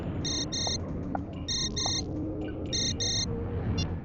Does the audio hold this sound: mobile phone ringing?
yes